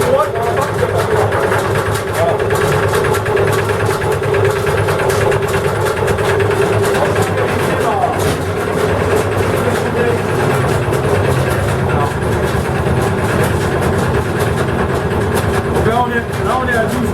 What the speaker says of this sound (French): le bruit qu'on entend, c'est la courroie qu'on entend